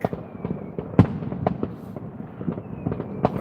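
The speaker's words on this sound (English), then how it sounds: "packs that they launch from. Whole batteries of them. 20, 30, 40 rockets in a pack." Fireworks rockets fired from launch batteries on New Year's Eve, going off as a run of sharp pops and bangs with one louder burst, all set against a steady wash of background crackle and noise.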